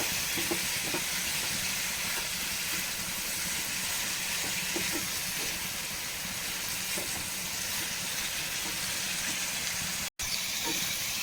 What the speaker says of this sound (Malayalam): നമ്മുടെ പപ്പായ പൊരിഞ്ഞ് ഒരു രണ്ട് മൂന്ന് മിനിറ്റ് ഒന്ന് അതിൽ കിടക്കണം